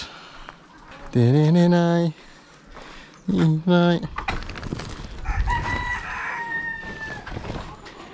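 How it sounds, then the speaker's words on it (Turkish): A pet chicken lets out two loud harmonic squawking bursts close by, followed by softer clucks and murmurs while people talk. "şu salimdeki şuradaki tavuk çok hoşuma gidiyor"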